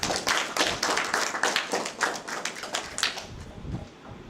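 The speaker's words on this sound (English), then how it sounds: "Give him a clap." A small audience claps briefly for a generous gentleman at a talk, a moderate patter of hands that thins out and fades within a few seconds.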